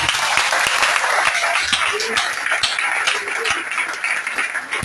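A church congregation at a Sunday service in Gabon breaks into steady, loud applause that fills the room for several seconds with no talking.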